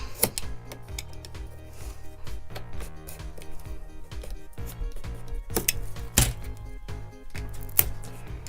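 A popsicle stick being cut all the way through, steady rapid clicking and crunching strokes close up, with sharper snaps near the end, no talking.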